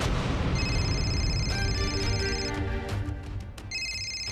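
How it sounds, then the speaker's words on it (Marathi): A mobile phone rings loudly with a repeating electronic ringtone, its bright tones continuing steadily over a dense background of dramatic music and rumbling effects, with no talking. "फोन वाजता घेऊ."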